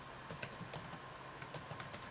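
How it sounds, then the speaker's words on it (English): Soft, irregular clicks of typing on a computer keyboard, close by and steady, with no talking. "I'm slow at typing"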